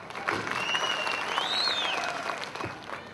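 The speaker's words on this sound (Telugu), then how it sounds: "చప్పట్లు" An audience at a celebration for Megastar Chiranjeevi in Muscat applauds with steady, moderately distant clapping, and a thin whistle rises and falls over the hands.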